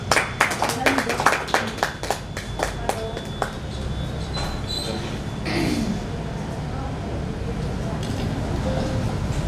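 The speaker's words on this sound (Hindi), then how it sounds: "हमारे शकीना फोटो वाले, एक बार इनके लिए भी अच्छी ताली बजा देंगे।" An audience gives a participant a round of applause at a therapy centre gathering, with brisk clapping early that fades into a softer, steadier murmur of claps and room noise.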